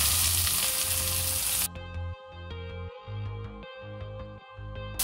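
Chopped onions fry in hot oil with cardamom and cumin in a pan for a black chickpea kurma, giving a loud, steady sizzle that drops slightly after the first moments and continues with rhythmic stirring clatter, no voices.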